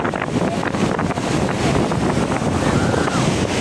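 Sea surf churning at Cox's Bazar beach, a loud continuous roar of water and wind buffeting the microphone from close by.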